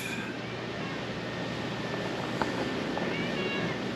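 A cat gives a couple of short meows over a steady background hum.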